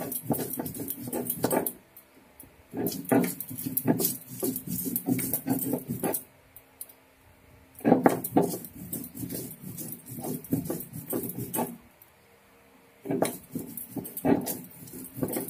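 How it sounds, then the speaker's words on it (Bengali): Black cumin, green chillies and garlic are ground together on a stone grinding slab (shil), producing rhythmic, rasping back-and-forth scrapes in bursts of several strokes separated by short pauses. "এবার ওই শিলের মধ্যেই সবকিছু একসঙ্গে বেটে নেব।"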